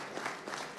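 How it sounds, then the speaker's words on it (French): Brief applause from the audience at a startup pitch marathon competition: a quiet, steady patter of clapping that lasts under a second. "On applaudit Youcan"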